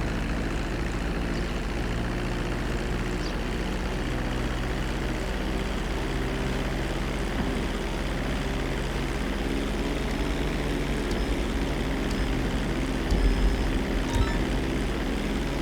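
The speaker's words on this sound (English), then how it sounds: "So we're in the plane now. We just gotta take off and" Propeller plane taking off in GTA Online: a loud, steady droning engine and propeller roar that holds constant throughout, with no talking.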